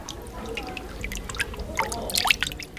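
Fabric is kneaded slowly under natural dye water in traditional dyeing, making soft watery squelches and faint drips close by.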